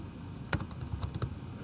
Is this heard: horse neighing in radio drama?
no